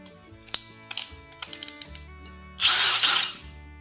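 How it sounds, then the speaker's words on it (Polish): Bosch cordless drill driver with a wood bit: a series of sharp clicks and short mechanical ticks, then a brief, louder whirring burst of drilling into wood under a faint steady hum, with no talk. "Wkrętarka przygotowana firmy Bosch"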